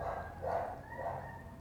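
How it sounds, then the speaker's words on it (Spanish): A small dog whines faintly in the distance, three short high whimpers spaced about half a second apart over a quiet room. "por ahí tienen un perrito que llora."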